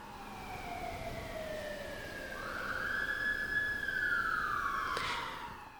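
A New York City emergency vehicle siren wailing in the distance, sweeping down then rising and falling in a slow arc, steady and moderately loud over city background hum.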